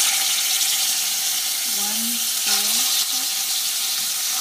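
Coconut cream sizzles and fries steadily in a hot pan for cooking Thai red curry paste, a loud constant crackle, with a voice talking over it.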